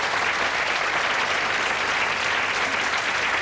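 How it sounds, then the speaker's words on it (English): A 1983 BBC television studio audience gives a full, continuous round of applause for the magician's assistant, many hands clapping densely and evenly throughout with no break. "Nice round of applause for Debbie McGee."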